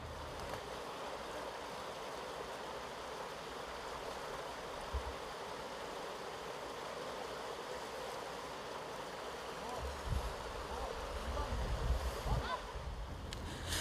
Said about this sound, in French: Il nous faut traverser la rivière.